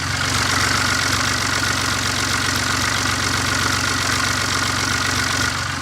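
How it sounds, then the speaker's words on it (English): A BMW three-cylinder diesel idles with its DPF and downpipe removed, giving a steady, close, clattery rumble with an even pulsing knock throughout and no voices. "I'm fairly certain these 3-cylinder diesels are relatively noisy anyway"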